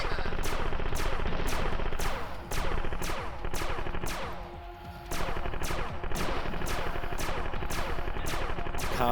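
A ship in the video game Defenstar fires its weapons in rapid, rhythmic volleys of sharp electronic blasts over a constant dense soundtrack, loud and continuous with a brief dip midway.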